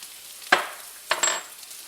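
Food in a pan over a medium flame gives a low sizzling hiss, with two sharp stirring scrapes or clatters breaking through, close by and with no talking.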